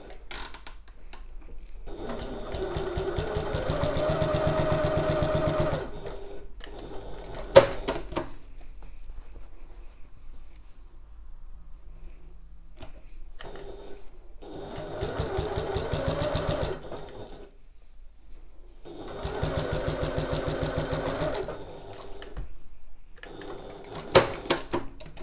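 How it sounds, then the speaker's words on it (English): Sewing machine top-stitching a grey panel of a messenger bag, running in three sustained bursts of steady rapid needle clatter, with quiet pauses and small handling clicks between runs. "I'm gonna top stitch these on the grey piece on the grey side"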